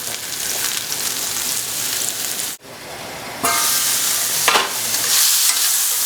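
About 8 ounces of cut-up mushrooms sizzle steadily in a hot pan. The frying hiss dips for a moment and then comes back louder, with stirring in it. It is close and continuous.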